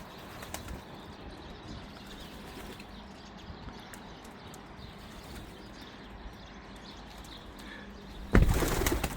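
Pigeons take off and flutter while one keeps landing on a pole outdoors; soft wingbeats and faint cooing over a constant outdoor hum, ending with a sudden loud burst of flapping wings nearby.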